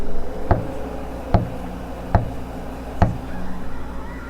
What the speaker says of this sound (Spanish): escuché 4 golpes secos que sonaron en la puerta